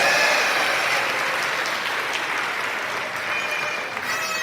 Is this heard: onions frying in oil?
no